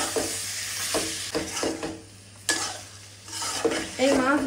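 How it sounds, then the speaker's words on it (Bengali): Singi and magur fish sautéed in spice paste for a fish curry with bottle gourd: a close, frying sizzle broken by repeated scraping stir strokes in uneven bursts, ending with a louder crackle. "এখন এই মাছগুলো ভালো করে কষিয়ে নেব"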